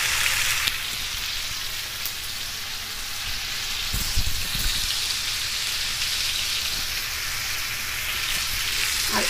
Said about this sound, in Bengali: এভাবে একটু একটু করে নেড়ে দিব।